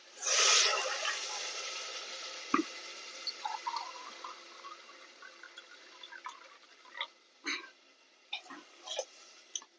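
Water is poured into a biryani pot in a short rushing splash at the start, followed by scattered drips and light clinks against a quiet background, with no speech.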